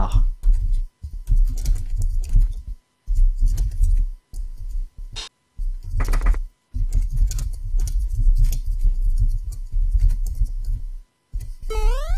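Computer keyboard typing: bursts of quick, close clicking keystrokes come in several clusters separated by short pauses, with a few louder isolated taps.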